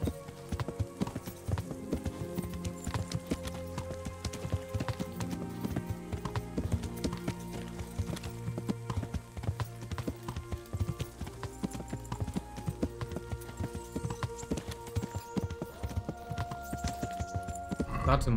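Hooves of a newly acquired horse clip-clop in steady rhythm in Kingdom Come: Deliverance, set against a continuous musical and ambient game soundtrack that sits at similar loudness.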